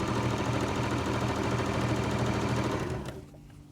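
Sewing machine stitching pieces of fabric for square-in-square quilt blocks, a steady close, dense mechanical whirr that runs continuously before cutting out abruptly near the end, no talking.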